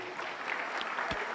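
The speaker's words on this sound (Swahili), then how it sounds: "Makofi tena mengi ndugu zangu." Audience applause at a public speech event, a steady dense clapping held at an even level for the whole short stretch, with no voices over it.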